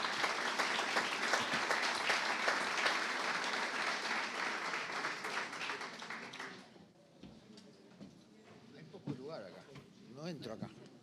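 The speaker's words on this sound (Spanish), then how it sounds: "Lo recibimos con un fuerte aplauso." Warm applause from an audience at a university conference inauguration in Argentina, loud and sustained for several seconds before fading out, after which someone speaks near a microphone while lectern shuffling and handling noises follow.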